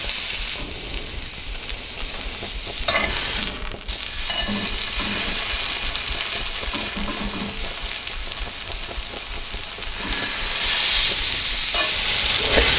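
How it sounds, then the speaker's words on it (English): Beef braciole sears loudly in a hot cast iron pan, a dense steady sizzle running the whole time that swells a little louder near the end, with no talking. "You get this cast iron hot enough, she'll sear up immediately."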